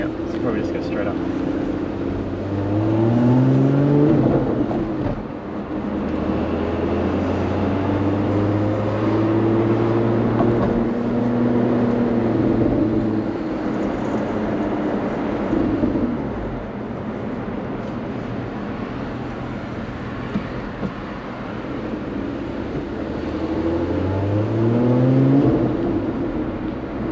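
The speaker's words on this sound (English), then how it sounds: "You can hear some burbles and cracks and pops." A Lotus Emira prototype's engine rumbles and rises through revs close by, with burbles, cracks and pops from the exhaust and people talking over it inside the cabin.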